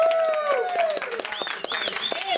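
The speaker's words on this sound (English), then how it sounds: "let's give them a round of applause" An audience claps for Green Office Furnishings in their showroom, a steady scattered applause under whistles and cheering voices, with people talking over it.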